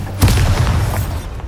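A Bombarda spell blast from Hogwarts Legacy: one loud booming explosion bursts in near the start, then rumbles and crackles on with a low roar that slowly fades over about a second and a half.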